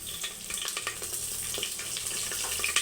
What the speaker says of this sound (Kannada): ಸ್ವಲ್ಪ ಎಣ್ಣೆ ಹಾಕೊಂಡೇನೆ ಫಸ್ಟ್ ಸ್ವಲ್ಪ ಜೀರಿಗೆ ಹಾಕೋತೇನೆ